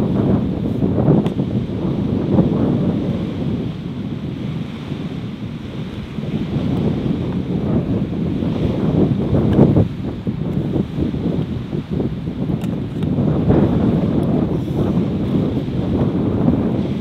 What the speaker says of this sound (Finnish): nyt selvästi alkaa tuulea tässä niin kuin mun rannalla